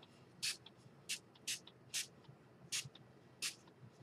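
Short bursts of aerosol spray hiss in an uneven rhythm, six or so quick puffs close by with quiet gaps between them.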